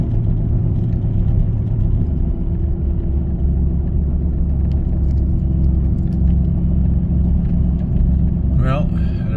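Steady low road rumble and drone from a 2015 GM 1500 pickup with a 5.3 engine while driving, loud and continuous throughout with a faint brief squeal near the end.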